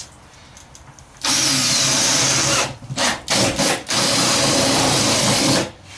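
A power tool whines loudly as it punches a hole in a wooden wardrobe cabinet, running steadily with a few brief stops and restarts before cutting off near the end.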